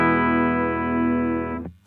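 A stock 1981 Ibanez AS100 electric guitar through a modded Boss Metal Zone distortion pedal rings out one long, thick distorted chord that sustains, then cuts off abruptly near the end.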